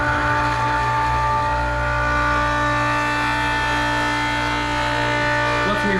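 A diesel transfer pump moving waste-oil fuel between drums runs with a constant loud motor hum and steady mechanical drone that holds unchanged throughout, close by, with no voices over it.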